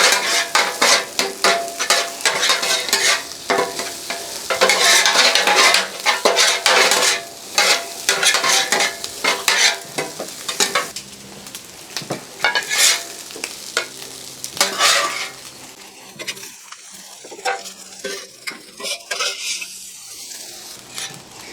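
Pork fried rice sizzles loudly on a Blackstone griddle while a spatula scrapes and stirs in quick rhythmic strokes, the clatter easing off into a quieter sizzle toward the end.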